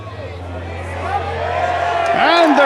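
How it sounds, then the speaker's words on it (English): A golf crowd at the 12th green watering hole of LIV Golf Adelaide erupts in loud, swelling cheers and hubbub, building over a couple of seconds, with a commentator's voice running through it. "And the crowd goes berserk."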